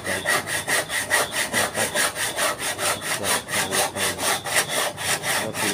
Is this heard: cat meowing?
no